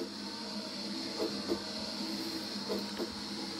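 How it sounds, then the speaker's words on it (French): A 2016 4Moms MamaRoo electric baby swing plays its heartbeat sound: two soft, low double thumps repeating under a steady electronic hum and hiss, faint and evenly spaced. "Le bruit du cœur."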